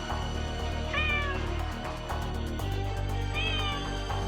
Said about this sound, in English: you could hear the cat meowing